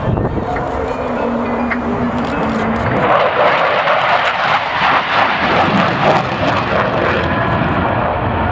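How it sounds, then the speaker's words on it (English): A Chinook helicopter flies a roll demonstration at the 2024 Cosford airshow, a loud roaring rotor and engine wash sweeping overhead, dense and continuous with wind noise. "please turn your eyes to the sky for the 2024 Chinook roll demonstration"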